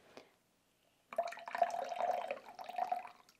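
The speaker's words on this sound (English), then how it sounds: "You want to do that until the water coming out of it runs clean." Water trickles and splashes out of a Sawyer water filter being back-flushed. A brief drip is followed by silence, then a steady, close pouring stream runs for a couple of seconds.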